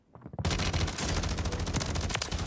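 Rapid automatic assault rifle fire in the Warzone game on Rebirth Island, a dense loud stream of shots running continuously for about two seconds after a brief quiet start.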